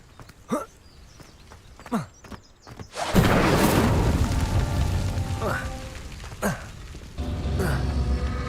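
A fire spell is cast in Hogwarts Legacy with a sudden whooshing burst of roaring flame that swells and crackles for several seconds, amid short percussive effects before and after.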